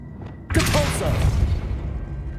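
A Depulso force spell is cast in Hogwarts Legacy, giving a sudden loud magical burst with a booming thump that decays slowly into a lingering rumble, with no talk over it.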